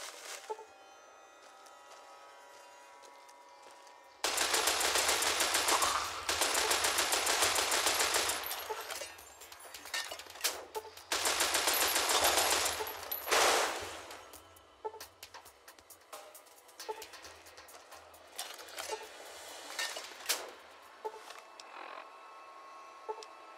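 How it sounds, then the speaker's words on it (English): Shoulder-mounted machine gun firing in the video game Fallout New Vegas, long loud bursts of rapid automatic fire broken by brief pauses, with mechanical clicks and scattered shots in between. "shoulder mounted machine gun is awesome."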